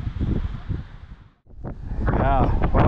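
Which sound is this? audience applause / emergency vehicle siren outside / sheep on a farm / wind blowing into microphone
wind blowing into microphone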